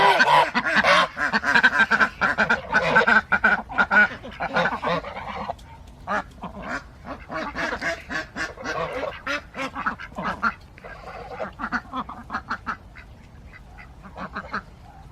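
A flock of ducks quacks loudly and continuously up close, a dense chorus that thins into scattered, rhythmic quacks.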